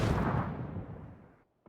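A grenade explodes in a video game match: a loud, broad blast that decays over about a second and a half, followed by a brief faint pop near the end.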